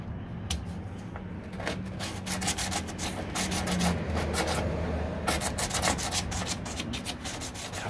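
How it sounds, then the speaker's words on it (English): Sandpaper rubbed by hand over a 1969 C3 Corvette door body panel gives a close, continuous scratchy rasp in repeated back-and-forth strokes, with no talking. "Just take your sandpaper, but you don't want to put the edge where you sand your edge."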